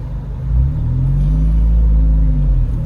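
A 2018 Fiat 124 Spider Classica with a six-speed manual cruises through an old town area. Its engine gives a steady, close, low drone and rumble that holds even and continuous throughout, with no speech over it.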